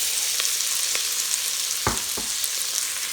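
Chorizo sizzling and crackling in a Pressure King Pro pressure cooker pot, a steady hiss punctuated by a few sharp pops and a couple of scraping clunks near the end.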